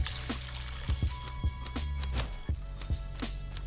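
Water pouring onto cannabis plants in the grow-sim game Weedcraft Inc, a soft liquid trickle and dribble with several short splashy bursts, moderately quiet, with no one talking.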